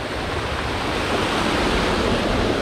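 Strong stream water about an inch deep rushes steadily near Sapteshwar temple at Sangameshwar, a loud, even wash of flowing water with no break and no voices.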